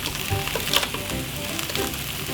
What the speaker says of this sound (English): you can use your frying pan to cook your sausages